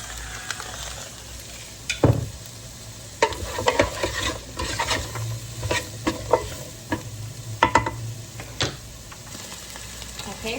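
Onions frying in a Ninja Speedi pan for a lamb shepherd's pie, a steady close sizzle broken by repeated scraping and knocking of the stirring spoon.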